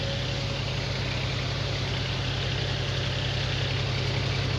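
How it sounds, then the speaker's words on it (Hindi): A New Holland tractor engine runs in a neighbouring farm field, a steady, unbroken diesel idle with a deep low rumble and constant hum, fairly loud and with no voices. "देखो इधर साइड में न्यू हॉलैंड भी चल रहा है दूसरे खेत में अपने में।"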